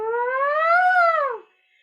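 A lip or nasal buzz voice exercise sung by one voice, a single steady humming glide rising slowly from a low pitch, then falling and cutting off after about a second and a half, close and clear.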